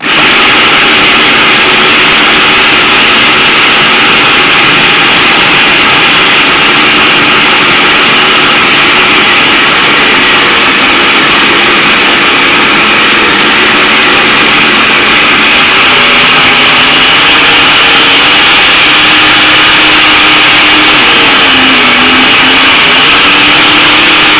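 A blender runs loudly and continuously blending raw vegan chocolate mulberry dessert ingredients, its harsh motor whine holding steady and shifting slightly in pitch as the contents churn.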